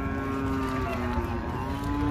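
A buffalo at a cattle market in Chichawatni gives a loud, sustained low moo lasting the whole moment, with steady crowd and market noise underneath.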